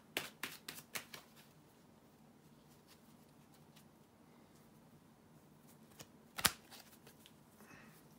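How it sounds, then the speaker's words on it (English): Tarot cards being shuffled by hand in a quiet room: a quick burst of riffling card snaps at the start, a quieter stretch, then a sharper slap of the deck near the end. "bear with me a second, guys, to shuffle the tarot cards"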